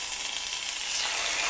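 Vegetables and jalapenos fry in a pan with a loud, close, continuous sizzle that grows slightly stronger toward the end. No one speaks.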